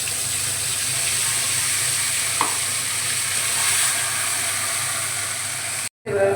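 Dried red chilli, cumin, ginger, melon seeds, cashews and tomato paste sautéing in a pan, a constant close sizzle with a faint tap partway, cutting out briefly before resuming.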